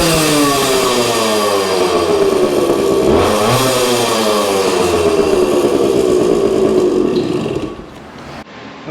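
A Suzuki TC-90 motorcycle engine runs loud and steady at close range, its pitch rising and falling through a few revs before it cuts out near the end.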